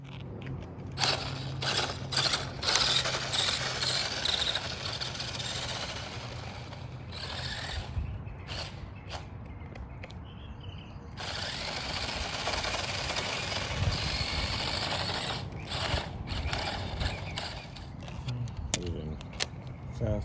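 A Tyco Fast Traxx toy car whirs and buzzes along its track, a continuous high-pitched motor hum with scraping and clattering, briefly dropping out before revving up again, close and fairly loud.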